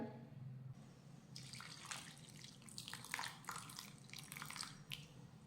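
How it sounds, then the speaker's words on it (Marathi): Water splashes and trickles in uneven bursts into a bowl of sago, fairly quiet and close, after a brief low murmur at the start. "आता यामध्ये घालूयात पाणी"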